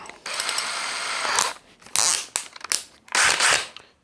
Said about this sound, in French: on va tester avec un trépan